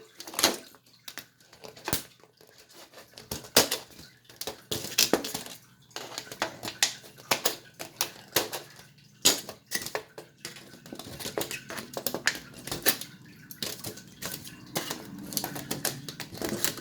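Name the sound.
cutting corners of metal cookie sheet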